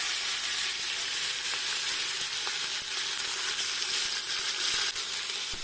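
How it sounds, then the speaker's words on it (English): Seasoned chicken fries in hot oil for Nigerian fried rice, giving a steady, loud, dense sizzle throughout with faint crackles and occasional stirring clicks, no voices. "I'm going to heat up some oil and then add my well seasoned chicken. So this is going to be fried until it's well cooked"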